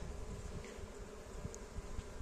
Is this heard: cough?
no